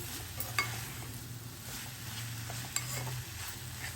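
Garam masala being stirred into an amaranth leaf fry, a soft, close sizzle with quiet scraping and two faint clicks of a spoon against the pan.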